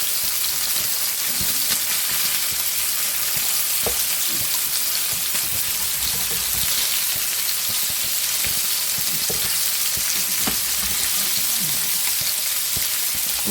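Red mullet fries in a non-stick pan with a steady, dense sizzle that holds at the same level throughout, joined by occasional soft stirring clicks and scrapes and no voices.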